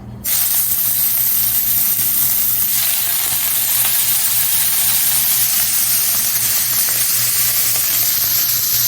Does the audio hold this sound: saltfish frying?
yes